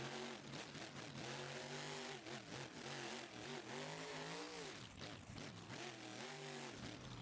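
A monster truck engine in the BeamNG.Drive video game revs loud and close, its pitch rising and falling as the throttle swells and eases, with a sharp dip midway before it climbs again.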